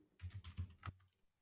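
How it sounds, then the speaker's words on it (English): Keys tapped on a computer keyboard during a network training demo, about seven quick close keystrokes in an uneven burst, then a pause. "I'll type, let it complete."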